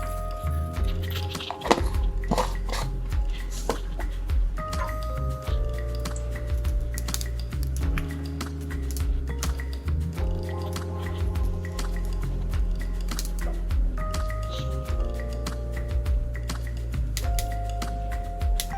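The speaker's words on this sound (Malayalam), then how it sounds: "കടുക് പൊട്ടുന്നുണ്ട്." Mustard seeds pop in hot oil in a clay pot for Kerala-style rasam, scattered sharp crackles and ticks coming at an irregular rhythm over a faint steady background tone.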